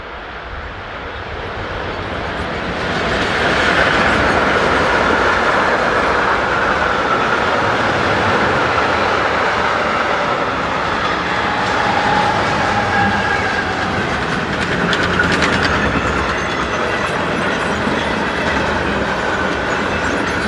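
Swiss freight train 60578, hauled by locomotive 11285 on its evening run from Limmattal Yard to Biel, rolls past close by. The roar swells over the first few seconds, then holds loud and steady with rushing wheel noise.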